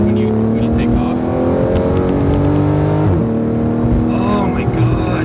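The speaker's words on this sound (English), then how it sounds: "Oh man, best sounding shifts right here" A Porsche 991.1 GT3 RS engine revs loudly and steadily, its rising tone broken by a quick PDK gearshift partway through before climbing again, heard up close from inside the car.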